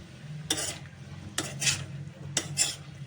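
A spoon clinks and scrapes against a pot while spices are stirred into a carrot pickle, three quick bursts of metallic scraping over a low steady background hum, close and without speech.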